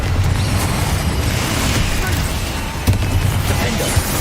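Spell explosions in the wizarding game Hogwarts Legacy, with loud booming blasts and pops over continuous dense combat noise and a couple of sharper impacts near the end.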